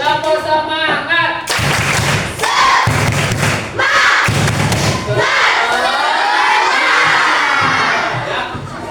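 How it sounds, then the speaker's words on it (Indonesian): Children in a classroom clap and shout together in a rhythmic spirit chant, loud and close, with bursts of claps and voices broken by short pauses before a sustained cheer. "Ayo, tepuk semangat dulu."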